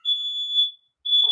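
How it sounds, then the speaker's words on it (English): A home smoke alarm sounds close and loud, a shrill piercing high-pitched electronic beep held steady for most of a second, a short silence, then the tone starts again. "my smoke alarm is going off"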